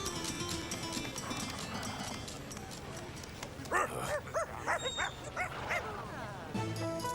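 A dog yips and barks in a short burst of several sharp, whiny calls over background noise and music.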